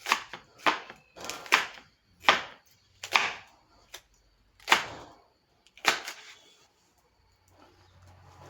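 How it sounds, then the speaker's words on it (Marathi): Knife cutting a bell pepper into fine slices on a board, a run of about nine crisp separate chops at an uneven pace, fairly close, with no talking. "आणि जरा थोड्याशा बारीक त्याच्या अजून स्लाइस करायच्या बारीक"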